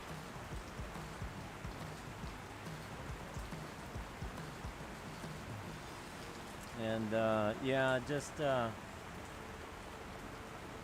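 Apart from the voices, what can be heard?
rain falling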